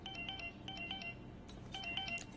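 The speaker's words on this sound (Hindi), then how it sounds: "किसका फोन है?" A phone ringtone chirps in short repeating bursts of tones in a home setting, fairly faint over a low background rumble.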